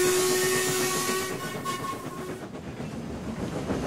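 A steam locomotive's whistle, sounded by pulling the chain, blows loud and close as a long steady tone over a hissing rail background, then cuts off and leaves the train's rumble and steam hiss.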